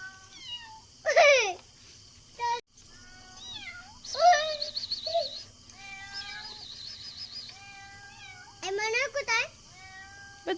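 A large cat up in a tree meows repeatedly, with several drawn-out, wavering cries and a caterwauling edge, heard outdoors at moderate distance while people talk faintly in the background.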